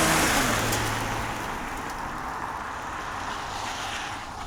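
A 2015 Toyota Camry pulls away and drives along a country road, its engine and road noise rising briefly at first and then settling into a faint, steady rumble with no voices.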